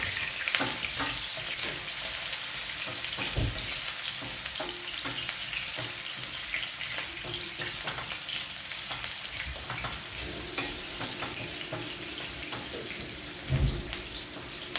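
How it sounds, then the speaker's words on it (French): Onions sizzle steadily in a hot pan for a potato omelette, a dense, continuous frying hiss at close range with occasional clinks and scraping of stirring, and no voices. "Je vais faire revenir mes oignons après tout."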